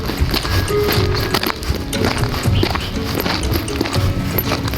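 Cows walking along a road through a Hong Kong village, their hooves knocking in a steady, close clatter over continuous low rumbling background noise.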